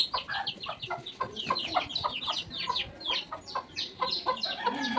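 Village chicken clucking in a steady run of short, close clucks, fairly loud with faint bird chirps behind and no talking.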